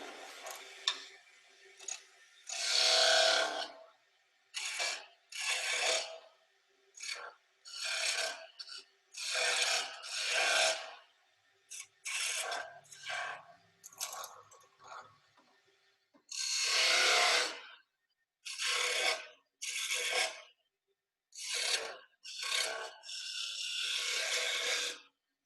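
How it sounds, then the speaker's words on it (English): A skew chisel scrapes and cuts into spinning wood on a lathe while marking bead cuts, in repeated short rasping bursts of one to two seconds separated by brief pauses, close and fairly quiet. "So we'll take this skew and go ahead and mark where we want our bead cuts to start our beads."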